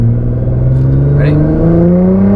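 A 2018 Nissan GT-R engine accelerates hard, a loud, steady drone climbing smoothly in pitch throughout with no pauses, heard from inside the car.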